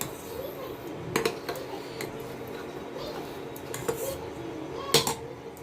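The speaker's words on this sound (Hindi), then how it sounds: "बर्तनों को स्टैंड पे लगाना है।" Dishes and utensils being set on a kitchen rack give sharp metallic clinks and clatters, several distinct knocks over steady background noise, close by with no talk.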